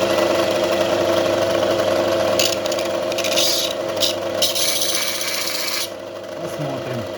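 A chisel is sharpened on a grinder: a loud continuous motor hum with a rasping grind as the steel touches the wheel in several passes, heard close up.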